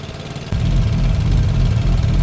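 A rebuilt Piaggio 125cc scooter engine idles steadily after a top-end valve job, a close, even mechanical drone with a slight tappet tick, starting up loud after a quieter opening half second.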